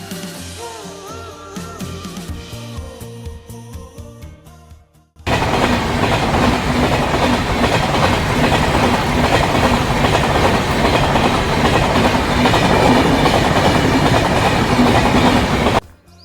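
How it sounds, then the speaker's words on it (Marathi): Two trains pass through Malavli railway station, one bound for Mumbai and one coming from it, with a loud, steady rumble and rhythmic wheel clatter close by that runs for about eleven seconds, then stops abruptly. "अशा 2 ट्रेन आपल्याला मिळाल्या."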